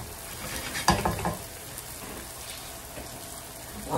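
Sausage fries in a pan with a continuous crackling sizzle, loudest early in the clip and then settling into a softer, even spatter.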